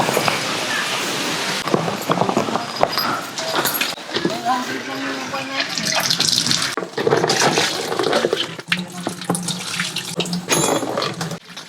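Tap water runs into a bucket at a nature campsite, a continuous splashing gush lasting throughout, with people talking over it.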